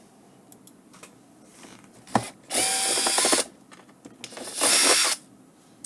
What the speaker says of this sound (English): you can magnetize the tip of your screwdriver and easily take them out, drag them out